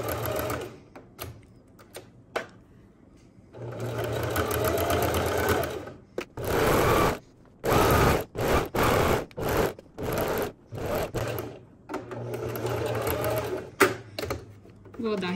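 A sewing machine stitches around the collar of a suede knit pajama top, running in rapid start-stop bursts of close, rattling stitching with short pauses between them. Someone talks intermittently over and between the runs.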